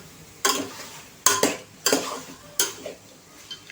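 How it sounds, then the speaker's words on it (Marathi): Soy chunks and spices frying in oil over a high flame, with four sharp metallic scrapes of a spoon against the pan spaced about a second apart, close and fairly loud, with no talking. "मिश्रण जे आहे सोयाबीन मसाले हे सगळं तेलावरती छान असं 2 ते 3 मिनटं फ्राय करून घेणार आहे"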